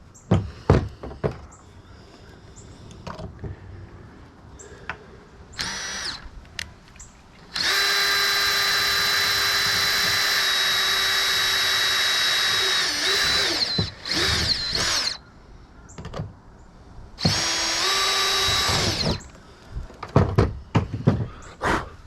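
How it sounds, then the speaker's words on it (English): A power drill whines in two long sustained bursts, drilling holes in plastic for a kayak camera mount, separated by short handling clatter and knocks, fairly close to the microphone. "we're going to drill our other holes."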